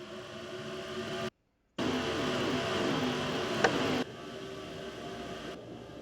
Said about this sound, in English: Always nice to listen to those cars.